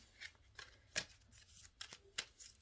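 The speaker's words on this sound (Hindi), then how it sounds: "पहले मैं इसको भी शफल कर दूं" A deck of tarot cards is shuffled in a quiet room, producing soft, irregular riffling flicks and a few sharper snaps, faint and close.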